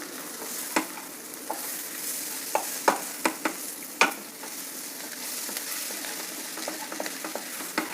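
Powdered jaggery being stirred into a pan of simmering gojju for vangibath: a steady low sizzle with scattered sharp clinks and scrapes of the spoon against the pan, no voices.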